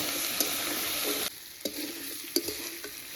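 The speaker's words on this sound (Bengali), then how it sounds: "এবার ওলকপিটা ভেজে নেব" Kohlrabi fries in a pan with green chili, salt and turmeric: a bright, loud sizzle for the first second, then a quieter fry punctuated by a few distinct spatula taps and scrapes.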